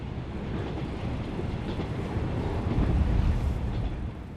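A train running along rails as an audiobook sound effect, a continuous low rumble with rhythmic clatter that swells slightly louder toward the end, heard alone without narration.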